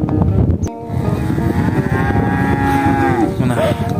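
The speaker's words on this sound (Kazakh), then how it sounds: "малдарды қозғап айдадық." Cattle being herded out at dawn moo in long, drawn-out calls that overlap one another, set against a steady rumble of movement and outdoor noise, fairly close by.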